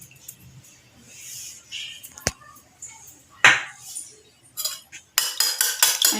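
A utensil clinks and scrapes against a bowl while egg and salt are mixed, with scattered taps and then a quick run of rhythmic beating strokes near the end, close and moderately loud.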